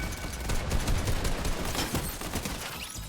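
Fortnite weapon fire rattles in a dense, sustained volley of rapid shots, loud and continuous throughout with no clear pauses.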